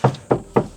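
Knuckles rap four times on a fiberglass door of a race car with carbon door cards and a Motec ECU, each knock a close, hollow, dull thunk spaced evenly about a quarter second apart.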